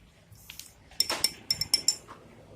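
A spoon stirs instant coffee and white sugar into hot water in a glass, clinking sharply against the sides in a quick burst of about half a dozen close, bright taps after a few softer touches.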